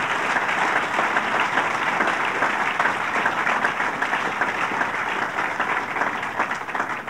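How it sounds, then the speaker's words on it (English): An audience at a governor's announcement in Kingston applauds with dense, sustained clapping that holds steady for several seconds and tapers slightly at the end. "Let's give him a round of applause for his great work."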